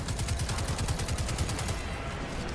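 Revolver fire from the shooter game Destiny 2, a dense run of rapid, evenly spaced shots for about two seconds, then a fading tail with no talk.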